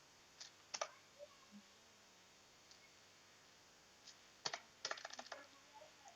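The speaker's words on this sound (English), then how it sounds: "Let's type" Faint clicks and short bursts of computer keyboard typing come and go against a soft background hiss, with a quicker flurry of keystrokes near the end.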